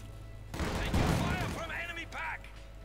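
An MG42 heavy machine gun fires in a Company of Heroes 2 battle, a short, dense burst of rapid gunfire followed by a voice speaking over the game sounds.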